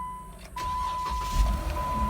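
A used car with a check engine light, showing 42,000 miles, cranks briefly and then starts, settling into a steady idle near the microphone. A faint warning chime sounds during the cranking and continues while the engine runs. No one speaks.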